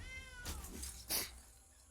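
A cat meow sound effect from the MTG Arena card game: a short, clear two-part meow, fairly close, with no talking over it.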